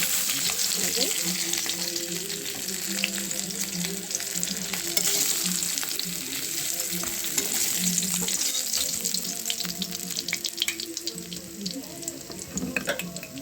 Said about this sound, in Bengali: মাছগুলো ছেড়ে দিলাম, তেল গরম হয়ে গেছে।